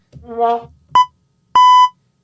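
A loud electronic beep sounds twice, a short blip followed by a longer steady tone, both coming sharply after a brief harmonic sound. There is no talking over them.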